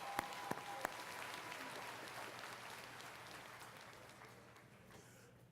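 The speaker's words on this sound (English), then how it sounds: "Let's give Ms. Fairweather another round of applause." Distant audience applause at a university commencement ceremony, a soft, even wash of many hands clapping with a few sharper claps early on, slowly fading.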